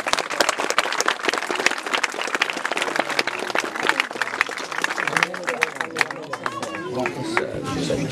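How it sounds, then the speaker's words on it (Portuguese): Crowd applause at a funeral farewell for a city councillor: steady dense clapping from many hands fills most of the stretch, with chatter and raised voices emerging as it thins toward the end. "mais uma salva de palmas."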